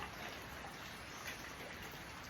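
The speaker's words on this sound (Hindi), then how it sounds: "बाहर में बारिश हो रहा है, पूरा बराबर बारिश" Steady, even hiss of rain falling on surfaces, continuous and fairly soft throughout, with no voices.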